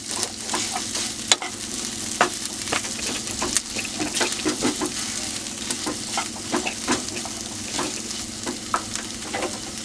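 A spiced filling for bread pakoda is sautéed in a pan, with a steady loud sizzle of frying broken by repeated scrapes and taps of the stirring spoon; the sound is close and continuous, with no voices.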